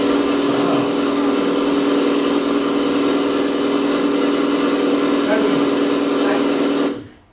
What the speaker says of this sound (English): There's the engine already running.